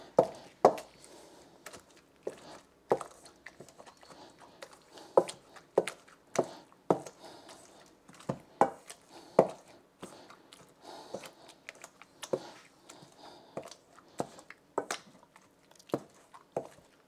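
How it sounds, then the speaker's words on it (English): Tomato and onions being crushed with a hand smasher, a slow run of irregular soft, squishy thuds spaced about a second apart, close and fairly quiet with no talk. "I'm going to smash the tomato and the onions"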